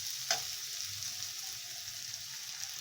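Flattened rice (chira) being stirred with vegetables and raisins in a frying pan, a steady close sizzle with a brief scrape near the start.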